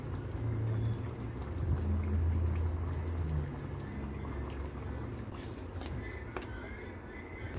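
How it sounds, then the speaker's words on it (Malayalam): Hot water poured into a pan of chicken curry masala, a loud, continuous pour for a few seconds that gives way to a softer bubbling sizzle. "കുറച്ച് ചൂടുവെള്ളം ഒഴിച്ചിട്ടുണ്ട്."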